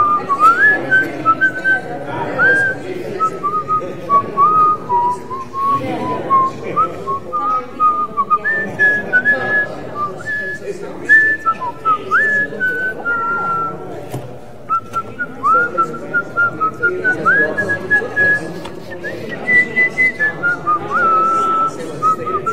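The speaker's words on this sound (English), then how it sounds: "You have a very good whistle." A person whistles a lilting melody in a live-streamed temple setting, clear and near, phrases rising and stepping with short breaths between them, with faint room murmur underneath.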